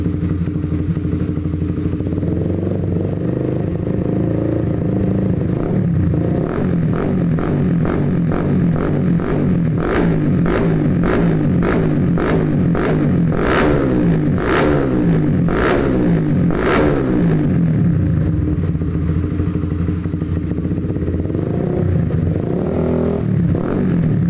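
A motorcycle engine fitted with a PWK carburetor and a size 30 nozzle runs close by, idling and then revving repeatedly in sharp rising bursts before settling back, loud throughout with no voices.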